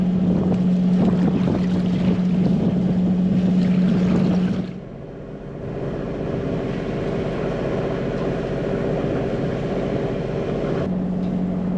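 A sailboat motors under engine toward Carlingford Lough near the Mourne Mountains, with a steady low engine drone under broad wind and water rush that dips briefly midway before settling back to a constant throb.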